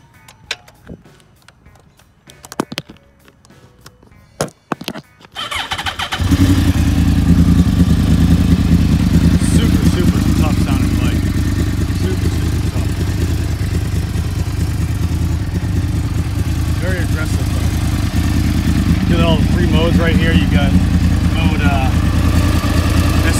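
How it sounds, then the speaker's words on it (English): A 2010 Yamaha R1 motorcycle engine cranks and fires up after a few sharp clicks, then holds a loud, steady, close idle with occasional light revs for the rest of the clip. "These are a newly designed engine that Yamaha produced, and they're kick-ass."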